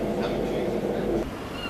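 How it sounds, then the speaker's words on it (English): Interior of a Channel Tunnel shuttle train waiting to depart, a steady low rumble and hum of the carriage, close and continuous. "On the train, waiting to depart."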